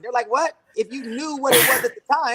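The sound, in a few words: sneeze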